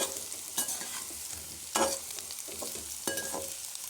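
Deep-fried veg manchurian balls are turned in a pan, three or four scraping stirs breaking over a soft, steady sizzle, close and without voices.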